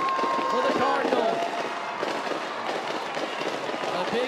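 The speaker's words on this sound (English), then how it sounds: "as the fireworks fly here in Stockton" Fireworks burst above a crowd celebrating a women's NCAA water polo championship win in Stockton, a dense, continuous crackle and rumble mixed with cheering, while a commentator's voice rides faintly on top.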